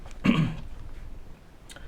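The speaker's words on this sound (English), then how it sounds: "you'll have to bear with me if I'm coughing quite a bit" A single short throat-clearing cough, close and moderately loud, followed by quiet room tone.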